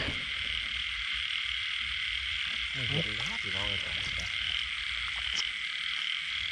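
A big frog croaks at night in a short burst of rasping calls over a constant hum of insects and crickets, while someone talks nearby.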